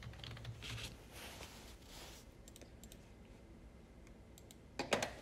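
A computer keyboard being typed on, heard as quiet, scattered clicks in short bursts, with a slightly louder cluster of keystrokes at the end over faint room noise.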